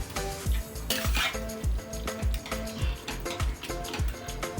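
A spoon repeatedly scraping and clanking against a pan while mutton kheema is stirred and mixed, a regular rhythm of metallic knocks about once a second over a soft sizzle, close and clear.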